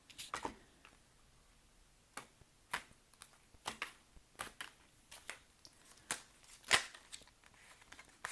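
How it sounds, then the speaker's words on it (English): Tarot cards being shuffled by hand, close up, in short crisp bursts of riffling and tapping with brief pauses between them. "I'm going to just say that before I'm doing more shuffle because that cut was kind of janky"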